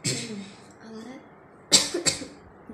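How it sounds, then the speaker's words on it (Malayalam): Two sharp coughs from a person close by, each a short harsh burst with a rougher tail, following a stretch of quiet speech. "ചുമയുണ്ട് കേട്ടോ."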